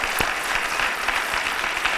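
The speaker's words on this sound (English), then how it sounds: "let's just get the hands moving with some polite applause" Polite applause from a conference audience at a sustainability forum, a steady patter of many hands clapping close by, with no talk.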